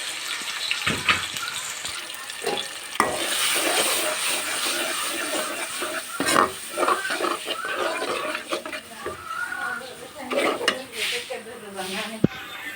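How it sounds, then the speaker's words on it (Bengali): Noodle ingredients drop into hot oil in a home kitchen pan and fry with a crackling sizzle, alongside scattered clanks and stirring of utensils against the pan and intermittent bursts of close noise. "আর এখন তেলে দিয়ে দিচ্ছি।"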